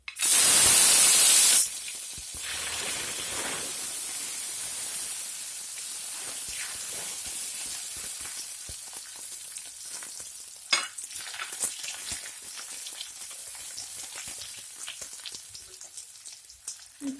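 Dried red chillies and shallots fry in hot oil for a Kerala-style sambar tempering: a loud hissing burst as they hit the pan, settling into a steady low sizzle with occasional pops and stirring.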